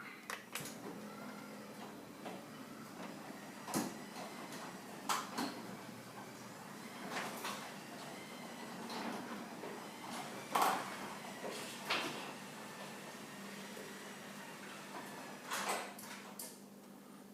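Sommers direct drive opener closing a steel carriage house garage door, a quiet, steady motor hum with scattered clicks and clunks as the door travels down.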